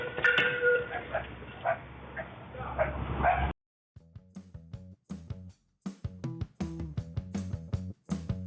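A dog barks and yips in a rapid series of short, sharp bursts while playing with a man, close by, following a stretch of louder background noise.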